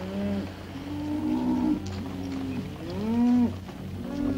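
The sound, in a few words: cattle mooing while being herded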